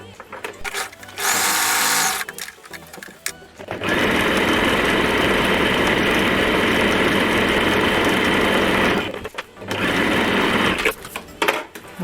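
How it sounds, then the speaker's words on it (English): A sewing machine top stitches a collar, running steadily in close, loud bursts, first briefly, then in one long continuous stretch, then again near the end, with short pauses between. "what we're gonna do next is give this a top stitch"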